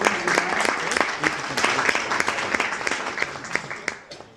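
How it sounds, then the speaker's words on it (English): An audience claps briefly on cue at a custom clothing event, the sharp claps dense and irregular over a steady murmur of crowd noise, fairly close and moderately loud throughout. "So you can just actually clap real quick"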